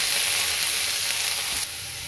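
Grated onion sizzles in a pan with green chili and ginger, a steady broad frying hiss that runs throughout and drops slightly in level near the end.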